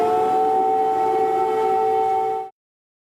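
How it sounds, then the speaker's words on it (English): An air raid siren sounds over Kyiv during a Russian drone attack, a loud steady wailing tone held for about two and a half seconds before cutting off abruptly. "air raid sirens rang out and explosions were seen over the Ukrainian capital of Kyiv"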